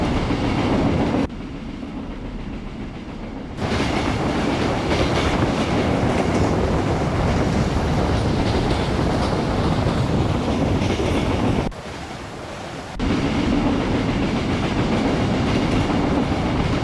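A train runs continuously in Train Simulator Classic, an Indian WAP4 locomotive hauling oxygen tanks in rain, its steady rumble and clickety-clack of wheels on rails close and loud, with two brief quieter stretches where the sound drops.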